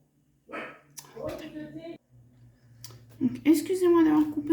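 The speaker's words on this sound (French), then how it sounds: "mon chien n'arrête pas d'aboyer, il est pénible" A dog barks and yips in short bursts close by, mixed with whimpering tones and overlapping talk in a room.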